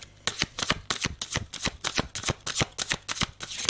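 Tarot cards shuffled for a spiritual reading, a rapid run of crisp riffling bursts and flicks, close and fairly loud, with no talking.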